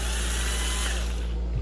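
A Black & Decker 12v cordless drill runs on a DeWALT 14.4v battery with a steady, loud mechanical whir and a constant hum, alone without talk.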